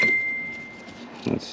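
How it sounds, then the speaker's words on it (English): A phone chirps with a steady single tone during automotive wiring work, followed by a short bright chime near the end, fairly faint in a quiet workshop. "That's my phone going off its head."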